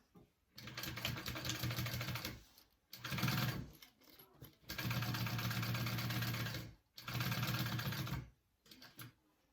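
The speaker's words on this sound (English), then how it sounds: "I'm sewing around that rectangle" A sewing machine stitches around a rectangular pocket on a bag, running in several steady bursts with brief pauses between them, close and clear with no talking.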